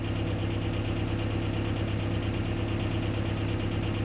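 A car engine idles in reverse gear, a close, steady low rumble with a constant throb and no change in pace, no voices.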